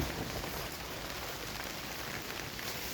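Steady rain falling across an open rice field during a rural ride, a dense even hiss heard close and continuous with no other sounds.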